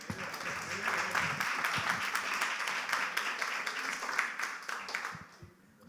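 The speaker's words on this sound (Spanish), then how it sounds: "un aplauso para ellos" A church congregation applauds together, a steady wash of dense clapping at moderate loudness that holds for about five seconds and then thins out and fades near the end.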